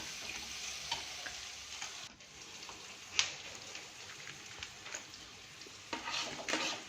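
Onions and garlic fry in a pan for a greens dish, giving a quiet, steady sizzle broken by occasional stirring clicks and scrapes, with no one speaking.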